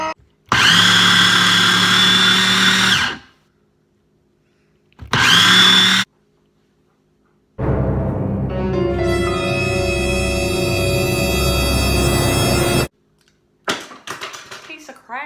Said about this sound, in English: It's what the frickin' blender's for!